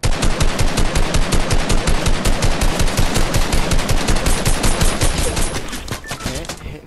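Rapid automatic gunfire from a PS4 shooter game, loud and sustained in a steady burst of shots that tapers off near the end, with voices faintly mixed in.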